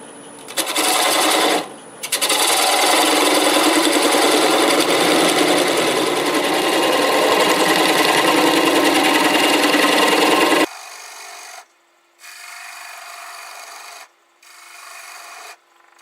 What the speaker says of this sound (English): I'm going to start with a 1/2-inch bowl gouge. I'll get most of it off, running about 600 RPMs.